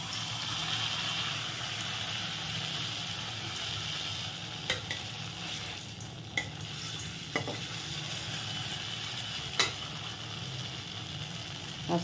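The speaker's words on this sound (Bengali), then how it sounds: "দিয়ে এবারে খুব হালকা আঁচে ভেজে নেব, তা না হলে বলগুলো পুড়ে উঠবে।" Chhana kofta balls fry gently in olive oil over low heat in a kadai, a soft, even sizzle running throughout with a few faint clicks of a utensil, no one speaking.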